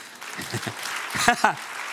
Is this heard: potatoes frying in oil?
no